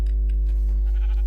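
Sheep in Minecraft bleat in one short, loud call over a steady low hum.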